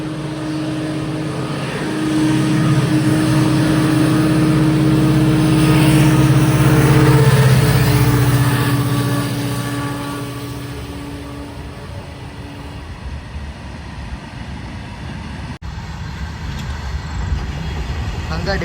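Diesel locomotive hauling the Hampi Express, a loud low engine drone with a steady hum that swells through the middle and then eases into softer running rumble, with a brief break near the end.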